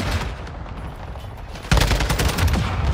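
Gunfire in Call of Duty: Modern Warfare II, a steady wash of shots that jumps to a louder, denser burst of rapid automatic fire about halfway through and keeps rattling close and loud to the end, with no talk.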